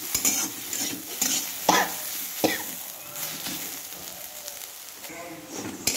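Kochu muro (taro stolon) fries in a pan as a spatula scrapes and stirs, with uneven metallic scrapes and knocks over a low sizzle, close and moderately loud.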